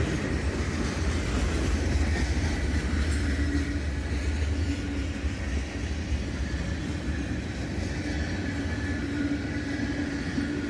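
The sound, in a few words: CSX southbound freight train led by GE ES44 locomotives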